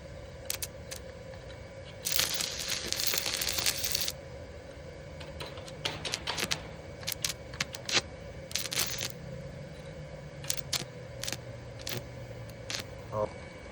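Stick welding a vertical bead on steel angle, heard as faint, intermittent crackling and sputtering bursts over a low steady hum, with a louder crackling stretch early on.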